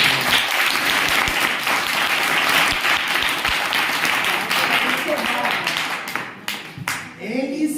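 A church congregation claps together in a dense, sustained burst of applause, with voices mixed in, before the clapping thins and a voice rises near the end.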